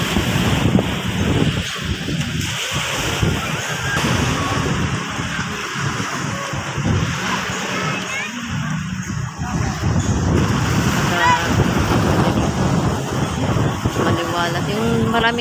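Sea waves and strong wind at a shoreline in Cavite, a continuous rough rush with wind buffeting the microphone, while a person talks over it.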